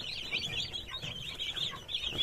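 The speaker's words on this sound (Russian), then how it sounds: "Шустренькие, веселенькие, пухленькие цыплята." Dense, continuous high-pitched peeping and cheeping from a group of young Cobb 500 broiler chicks, close by, with no pauses.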